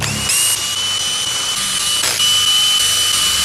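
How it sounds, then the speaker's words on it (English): A power tool with an E-Torx 12 socket spins off connecting rod cap bolts on an Audi V8 engine, a loud, close, continuous whine with pitch shifts and brief pauses between bolts. "Now we're going to run these bolts off here."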